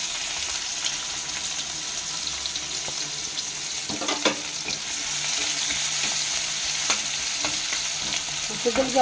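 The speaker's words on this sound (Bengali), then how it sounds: "পেঁয়াজ কুচি দেওয়া হলো" Chopped onions fry in a pan for a Bengali katla fish kalia, a steady hiss of oil sizzling throughout with occasional spoon scrapes and stirring clatter close by.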